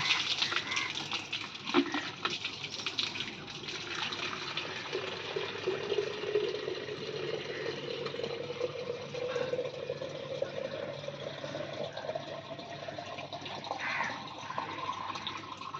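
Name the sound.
fresh water being poured in for washing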